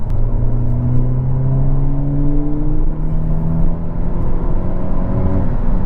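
A 2022 Hyundai Elantra N with a turbocharged 4-cylinder engine in sport mode, a loud throaty drone close by whose pitch climbs steadily as it revs.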